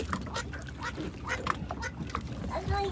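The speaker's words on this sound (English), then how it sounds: "Throw one far to the mommy duck." A mother duck quacks on Lake Powell near a houseboat, several short nasal quacks scattered through the clip over outdoor background noise, with faint voices nearby.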